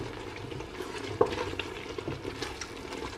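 A spoon stirs Ghana okra stew with shrimp cube, salt and oregano in a pot, giving a steady soft scraping and faint sizzle, with one sharper clink near the middle and no talk.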